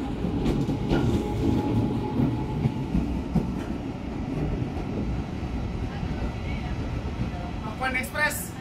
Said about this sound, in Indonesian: KRL Jalita berangkat pukul 12:13.